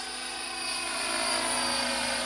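A radio-controlled model helicopter flying slowly in wide, sweeping turns during large figure-8 practice, its steady whining rotor and motor drone holding constant and gradually getting a little louder, with no talking.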